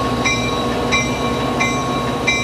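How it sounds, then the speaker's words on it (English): A northbound Amtrak train at a station stop in Klamath, rolling slowly with rhythmic wheel clicks and faint squeals roughly every two-thirds of a second over a steady rumble, close by and with no voices. "we waited as a northbound Amtrak made a station stop at Klamath"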